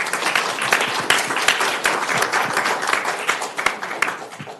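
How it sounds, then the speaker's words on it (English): Applause from the audience at a Manhattan Beach city council meeting, a steady wash of many hands clapping for several seconds at moderate volume with no talking over it. "thank you for allowing me to recognize her and give her a round of applause."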